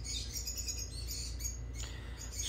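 Lovebirds on a breeding farm chirp and squawk in quick, overlapping high calls over a steady low hum, continuous throughout with no voices.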